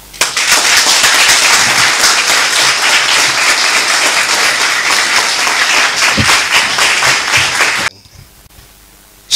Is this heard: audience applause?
yes